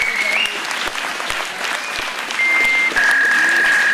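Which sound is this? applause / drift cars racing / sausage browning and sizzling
applause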